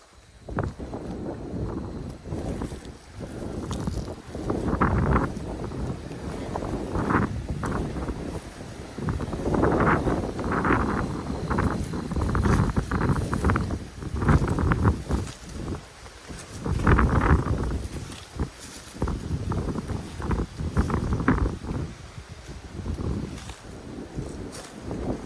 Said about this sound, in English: This is perfect weather with this wind too.